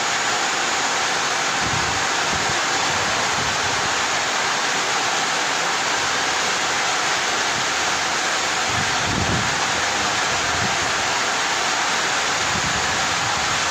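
Water treatment machine with large filters and pipes processing water, giving a steady, loud, broadband rushing hiss that runs unbroken throughout with no voices.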